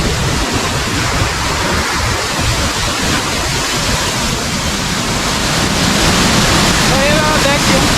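Tagbibinta Falls, a waterfall in Davao de Oro, rushing as a continuous dense hiss of falling water, loud and steady from start to finish.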